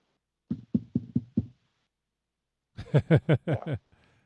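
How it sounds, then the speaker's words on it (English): Knocking from the horror film Antlers: a run of five hollow, evenly spaced knocks, a pause, then a second louder and brighter burst of about five quicker knocks, close and dry with no speech. "the knocking kind of morphs into cries"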